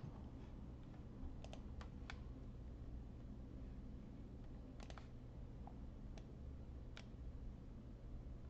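Computer keyboard keys are pressed while working in 3D design software, a handful of sparse, crisp clicks in small bursts over a low steady hum, quiet and close, no talk.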